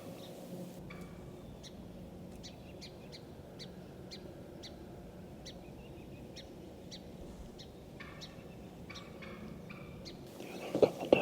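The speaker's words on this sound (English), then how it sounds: "Turkeys are talking" Wild turkeys gobble in Indiana timber in early November, a string of sharp, rattling calls repeating at a fairly steady pace, moderately distant and clear over a quiet woodland hush.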